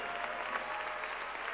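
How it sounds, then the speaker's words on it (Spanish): Steady, dense applause from the audience at a murga carnival troupe performance, a continuous wash of many hands heard at moderate distance without a break. "O sea, que un aplauso"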